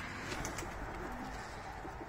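Kupa breed pigeons coo softly in a pen, low murmuring calls repeating over steady background noise with no talking.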